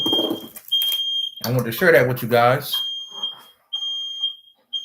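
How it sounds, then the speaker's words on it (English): A high-pitched smoke alarm beeps in long insistent tones, repeating over and around a person talking nearby. "Let me get this out of here so the smoke alarm can stop."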